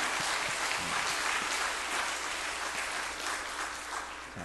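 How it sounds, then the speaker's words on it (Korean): A church congregation applauding at a Sunday service, dense steady clapping at moderate distance with no voices over it. "우리 다 함께 큰 박수로 하나님 앞에 영광 돌리겠습니다."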